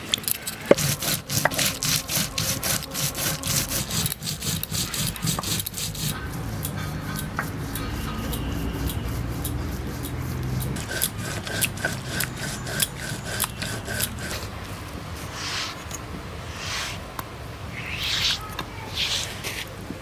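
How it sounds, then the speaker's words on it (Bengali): Cumin, black pepper and two chillies are ground by hand on a grinding stone, a rhythmic scraping and rasping of stone on stone, close and fairly quiet, repeating in strokes for a long stretch. "মশলা আমার বাটা হয়ে গেছে"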